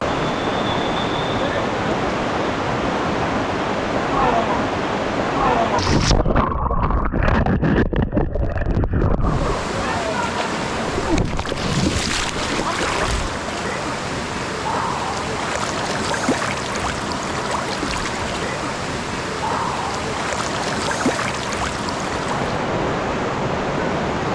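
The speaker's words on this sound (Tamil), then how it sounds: "தண்ணி ரொம்பவும் வேகமா இருக்கு நான் தண்ணில விழுந்துகிட்டே இருக்க" Fast-flowing river water rushes loudly along a Bali riverbank lined with carved Ramayana sculptures, a constant roar broken by a brief muffled, splashing dropout, with wind buffeting the microphone.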